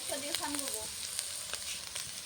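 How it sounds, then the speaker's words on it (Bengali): Potatoes and flat beans sizzle and crackle steadily in a pan, a soft frying hiss with a faint voice briefly over the start. "আলু একটু ভাজা ভাজা করবো।"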